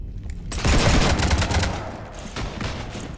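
Video game gunfire in Mass Effect 3, a loud burst of rapid automatic shots that fades into scattered, quieter fire.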